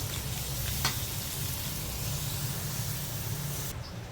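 Dinuguan sizzles and hisses loudly in a pan as Del Monte pineapple juice is poured in, a steady frying crackle with no talk.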